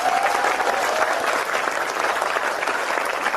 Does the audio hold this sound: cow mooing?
no